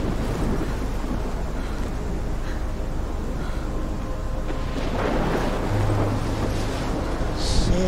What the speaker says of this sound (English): that's a pretty bad storm